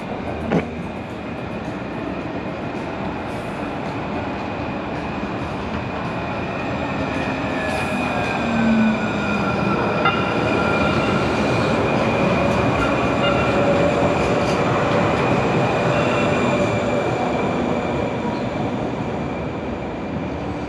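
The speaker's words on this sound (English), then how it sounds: "As you see the trolley go past" A trolley rolls past on rails in historic Phoenix, a steady rumble of wheels and track that swells slightly as it passes and holds for about twenty seconds, with a faint squeal and no talking.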